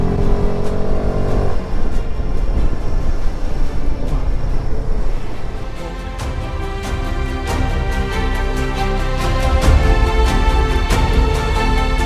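A car overtaking inside the Atal Tunnel on a drive from Manali toward Ladakh: a loud, continuous engine drone and road roar inside the vehicle, with a rhythmic series of ticks over the top and no talking.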